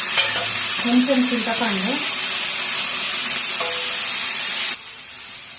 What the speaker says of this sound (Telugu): ఈ వంకాయలు వేగేటప్పుడే 2 టమాటాలు వేసుకున్నా.